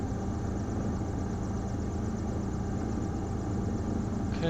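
Steady engine idle from engine 2 of a Partenavia P68B twin-engine light aircraft in Microsoft Flight Simulator 2024, a constant low droning hum with even vibration and no breaks.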